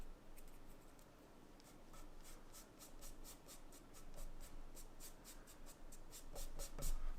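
Charcoal and chalk scratch across paper in quick rhythmic hatching strokes while a moody landscape is drawn, a close series of dry, evenly spaced scrapes that grow slightly louder toward the end.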